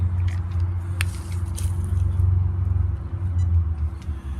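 An RC monster truck running on a 6S battery drives steadily, with a loud, continuous motor drone and rumble, scrapes and crunches from the wheels on the ground, and no talking.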